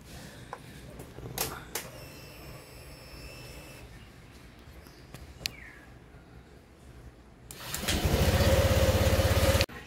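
A Honda Click scooter engine, running after a water pump repair, starts up near the end and idles loudly and evenly close by, following quiet handling clicks and thuds.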